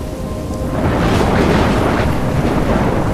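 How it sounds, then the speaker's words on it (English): Stormy weather in the video game Life Is Strange: a steady, dense roar of heavy rain and wind with a low rumble of thunder building partway through, loud and continuous with no voices. "I'm trapped in a storm?"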